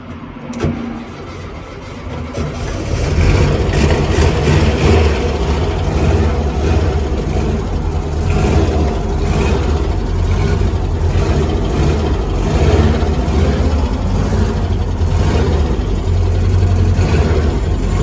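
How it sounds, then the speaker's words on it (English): VW Beetle 1303S rally replica engine cranks and fires after a brief pause, then settles into a steady, loud, low air-cooled idle that runs on without interruption. "Bit of a test drive, see if it moves forward and back. See if it starts again."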